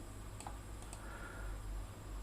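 Fingers tap on a computer keyboard while entering key names into a configuration file, giving a few faint, sparse clicks over a steady low hum in a quiet room.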